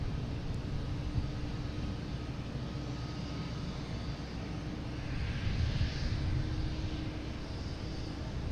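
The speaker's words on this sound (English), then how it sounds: "American Airlines E-175 coming in from Indianapolis." An American Airlines Embraer E-175 jet landing at Boston Logan, arriving from Indianapolis; a quiet, steady engine rumble and whoosh from a distance, with no voices over it.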